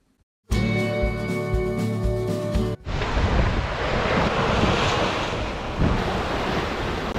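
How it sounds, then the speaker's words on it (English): A sailboat beating into 2-meter ocean waves, with steady loud wind roar and rushing water filling the scene after a brief tonal burst at the start; no talk. "We are beating into 2-meter waves, but there's a pretty good period between them"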